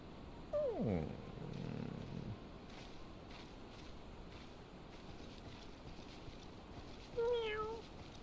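A cat meows twice, once with a falling cry near the start and again with a wavering meow near the end, heard over a steady low rumbling background in a video game.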